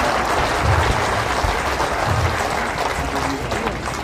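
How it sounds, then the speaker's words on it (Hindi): Audience clapping in welcome of the saints at a Samarasta Kumbh gathering at an ashram, a steady dense wash of applause that holds throughout, with faint voices underneath. "जरा जोरदार तालियों के साथ सभी संतों का आप अभिनंदन करें"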